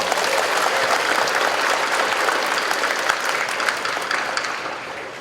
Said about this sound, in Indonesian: Tepuk tangan untuk SMA 1 Bandung